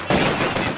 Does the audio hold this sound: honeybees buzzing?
no